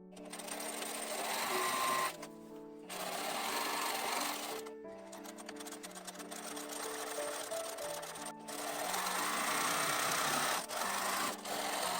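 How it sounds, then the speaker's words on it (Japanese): A sewing machine stitches a stand-collar jacket up to the tuck stop, running in steady humming bursts with brief pauses between runs, close and loud with no talk. "タック止まりまでにステッチを入れます。"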